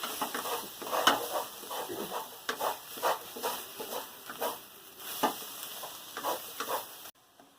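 Grass pea leaves are stir-fried in a pan: a steady, close sizzle with repeated scraping strokes of a spatula. It runs alone and cuts off abruptly near the end.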